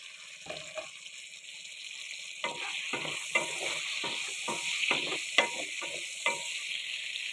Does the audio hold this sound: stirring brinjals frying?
yes